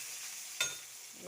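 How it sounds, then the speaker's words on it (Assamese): Onion, ginger and garlic dropped into a hot pan of oil, a steady bright sizzle with a sharp burst as the onion hits, then continuing frying hiss, close up with no talk. "আদা নহৰু, এয়া দিলোঁ পিঁয়াজ"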